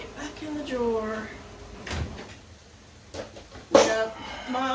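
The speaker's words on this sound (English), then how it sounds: "And stick it back in the drawer." A kitchen drawer slides shut with a short wooden knock while someone keeps talking nearby; a few other small clatters are heard under the voice.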